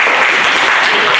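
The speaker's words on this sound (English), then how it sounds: "And another round of applause," Dense, steady applause from the audience at a zero waste symposium in Malaysia, loud and continuous throughout with no gaps or talk over it.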